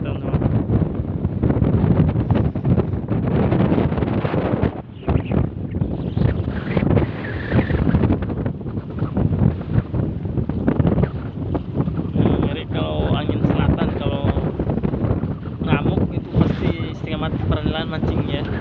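Strong storm wind gusts and big waves batter a fishing boat at sea. Loud, buffeting roar with microphone wind noise continues throughout, with a brief dip midway and a voice talking at times.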